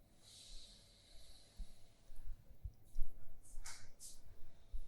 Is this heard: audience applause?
no